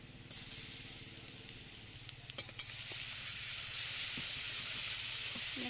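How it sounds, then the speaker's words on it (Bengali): Spice masala of turmeric and chili powder with ginger paste sizzles in hot oil for a small hilsa curry, a steady close hiss that swells gradually, broken by a few quick stirring clicks. "আমি মশলাটাকে ভালো করে একটু কষিয়ে নেব"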